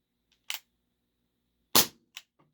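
Two sharp snaps from a Ruger P345 airsoft pistol, clean and loud in a quiet room, with a couple of fainter clicks between and after them.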